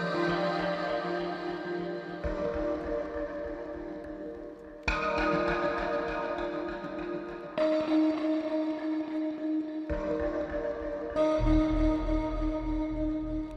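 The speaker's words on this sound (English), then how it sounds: "this is a free reverb called Supermassive" Sustained tonal chords drenched in the huge, long-tailed wash of the free Supermassive reverb plugin, phrases changing every couple of seconds over a thick, continuous ambience, with no talking.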